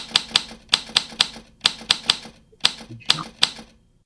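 Sharp, loud key strikes in short bursts of two or three, with brief pauses between groups, close up and alone.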